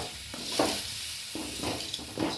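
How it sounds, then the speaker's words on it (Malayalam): Grated coconut being stirred and fried in an aluminium pan over the flame, with a spoon scraping in repeated strokes over a steady soft sizzle, close up and alone. "നന്നായി ഇളക്കി കൊടുത്ത്"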